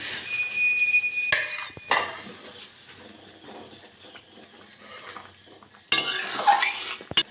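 Bay leaves and vermicelli go into a pot of boiled milk, with metallic clinks and scraping against the pot and soft rustling handling noises in between, close by and without talk.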